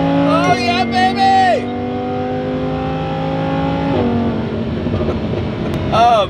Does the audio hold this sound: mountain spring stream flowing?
no